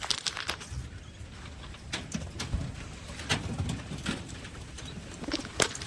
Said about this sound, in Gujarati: આ રીતના આપણે કાંઈક કબૂતર છે